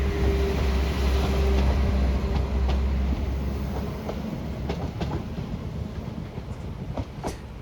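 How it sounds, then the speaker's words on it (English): A model railway DMU train leaves the Liverpool Lime Street platform, rolling along with a steady rumble and faint intermittent clicks over the track that slowly fade as it departs. "Over on platform 6 we see a Liverpool Lime Street DMU service departing."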